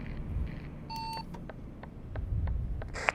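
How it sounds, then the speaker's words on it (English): A short run of repeated electronic beeps, bright clipped tones in quick succession, sits over a low background rumble with no one talking. "Wonder what that beep beep beep noise means."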